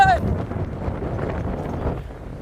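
Wind gusting against a phone microphone while jogging outdoors, a steady low rumbling buffet that fills the whole stretch with no pauses.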